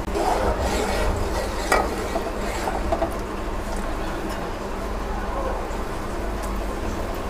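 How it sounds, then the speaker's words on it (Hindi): Dry vermicelli (sewai) goes into a pan with softened dry fruits for kimami sewai and is stirred over a medium flame. A steady, close scraping and rubbing rasp continues throughout, with a few louder scrapes near the start. "फिर मैं इसमें सिवैयाँ ऐड करूँगी।"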